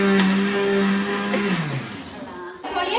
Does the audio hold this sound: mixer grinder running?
yes